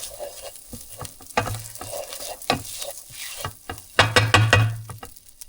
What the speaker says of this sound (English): cooked rice. Give that a quick stir.